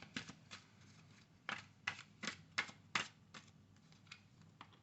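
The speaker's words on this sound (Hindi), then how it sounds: "शफलिंग कर रही हूँ।" Tarot cards are shuffled close up in a quiet room, with a series of crisp riffling bursts spaced irregularly, each a brief papery flutter.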